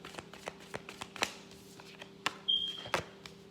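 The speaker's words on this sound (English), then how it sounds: "Now I'm going to go ahead and pull the cards." Tarot cards shuffled and drawn by hand: a handful of soft, close snaps and taps land at an uneven pace, quiet against a faint steady background hum.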